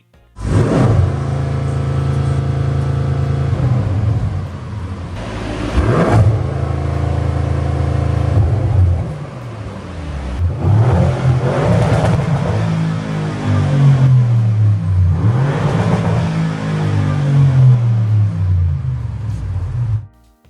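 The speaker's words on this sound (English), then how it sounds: "What if I just want to show off my big fat V8?" A big V8 car engine revs hard several times, each blip rising into a loud throaty roar then falling back to a rumbling idle, close and dominant throughout.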